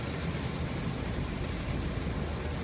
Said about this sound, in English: I think it's now starting to gust on the old gale force front